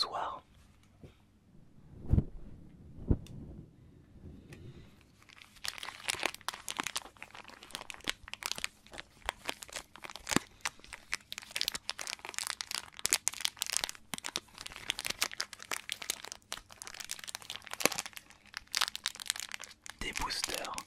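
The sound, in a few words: crinkling wrappers of BattleTube card booster packs being opened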